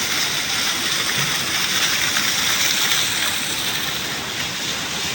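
Steady rain pours down outdoors at an airport, a dense, even hiss of falling water that holds constant throughout with no voices.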